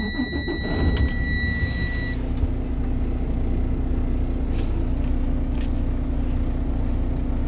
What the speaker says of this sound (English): Start the engine to build air pressure.